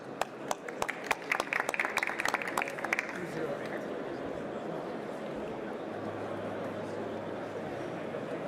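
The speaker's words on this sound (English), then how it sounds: "Nice warm round of applause." Warm applause from a conference audience at an industrial and logistics business forum, beginning with scattered individual claps that quickly swell into a dense, sustained ovation filling the hall, steady and fairly loud to the end.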